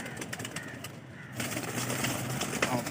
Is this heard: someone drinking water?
no